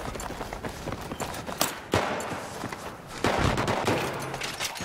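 Battlefield 3 gunfire: dense, crackling bursts of automatic shots with a few sharper single cracks, loud and continuous throughout without speech.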